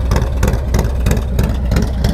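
A warm Stage 2 Harley-Davidson V-twin idles close by with a loping, uneven potato-like pulse, loud and steady with no talking over it.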